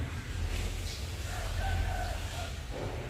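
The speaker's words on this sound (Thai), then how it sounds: "เสียงนกเสียงอีกา" Birds and crows call faintly in the distance over a steady low rumble, with sparse, scattered cries.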